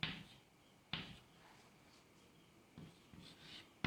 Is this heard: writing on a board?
yes